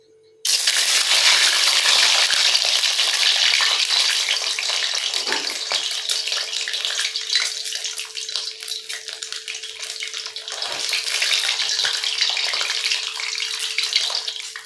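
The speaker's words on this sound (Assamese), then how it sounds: "এতিয়া মই কণীকেইটা ফ্ৰাই কৰি ল'ম।" Eggs frying in hot oil in a pan for an Assamese egg curry, a loud steady crackling sizzle that starts abruptly and runs continuously, with no talk over it.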